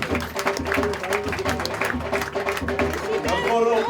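Audience at a Pratishtha Week 2017 event in Nakuru applauds a lucky lady, a dense, steady wash of clapping from a crowd lasting throughout, with chatter and voices mixed in.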